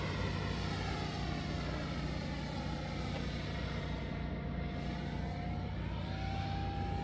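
A FlyFans L-39 camo RC model jet flies overhead, its turbine-like whine steady and sustained at moderate loudness for the whole stretch, with a faint pitch rise toward the end and no talking.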